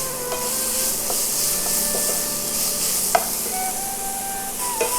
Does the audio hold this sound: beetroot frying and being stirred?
yes